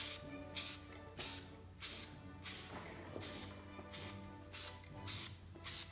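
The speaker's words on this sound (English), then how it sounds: "Now it's just hosing out paint. It's almost splotchy in some areas. It comes out so fast." Paint spray gun spraying paint onto a wheel during restoration, in repeated hissing bursts of about half a second each, roughly a dozen in six seconds, steady and close with no talking.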